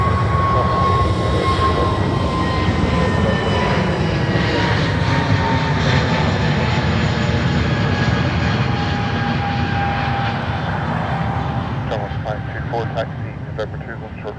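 An Airbus A321neo departs Dublin Airport, its jet engines producing a loud, sustained roar that gradually fades as it climbs away, with a high whine sliding downward and a voice talking over it.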